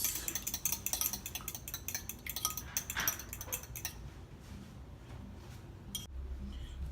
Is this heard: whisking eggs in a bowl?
yes